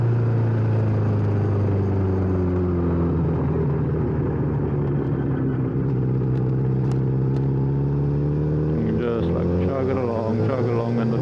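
A 2009 Honda CBR1000RR Fireblade 1000 cc motorcycle rides along with a loud, steady engine drone that rises and falls gently in pitch, heard from the rider's position, with a rider talking over it near the end.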